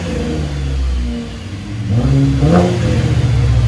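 A 2012 Chevy Impala LT V6 with straight-pipe dual exhaust and muffler delete idles with a deep rumble, then revs up in a rising blip, loud and close with no voices.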